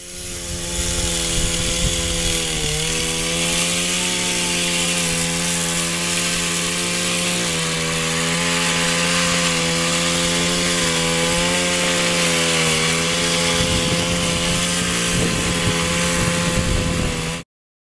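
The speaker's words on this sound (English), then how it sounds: "We'll be harvesting our crop using a commercial-grade power hedge trimmer, which works very well for this purpose." A commercial-grade power hedge trimmer cutting pampas grass gives a loud, continuous, buzzing engine drone with a rough chattering edge, steady throughout with a few brief dips in pitch.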